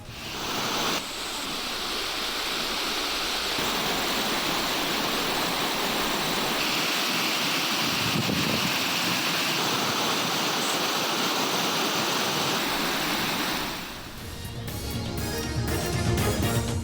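Chinna Suruli waterfall in Theni, swollen after continuous rain, roars in a loud, unbroken rush of falling water that dominates throughout, shifting slightly in texture near the end.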